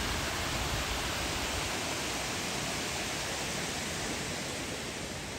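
Samrong Kiat waterfall in Sisaket, Thailand, pours steadily in a dense, even roar of falling water, close and continuous with no voices.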